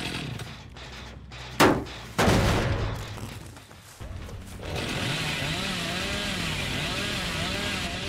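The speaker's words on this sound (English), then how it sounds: "I'm gonna bait her with a chainsaw." The Hillbilly's chainsaw revs in Dead by Daylight, a steady buzzing engine whine that starts midway and holds, after a couple of sharp impacts and some game sounds.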